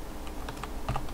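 Light, scattered keystrokes on a computer keyboard over a steady background hum, a few soft taps and a small cluster near the end.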